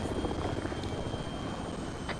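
Helicopter engine in the military game Arma 3 spinning up as the pilot struggles to start it, a steady loud rotor and turbine drone that holds constant throughout, with no talk over it.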